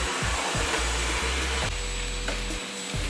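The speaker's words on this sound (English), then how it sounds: "Fairly quiet for a shop vac." Milwaukee M18 FUEL cordless 3-in-1 backpack vacuum running steadily, a loud continuous whirring motor drone with airflow hiss, with a few brief dips as the nozzle moves, no talking.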